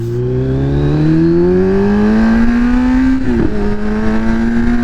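A Kawasaki Z900 motorcycle with a remapped engine pulls away and accelerates hard, its loud engine tone climbing steadily through the revs with a brief dip around a gear change before rising again, close and continuous with no talking.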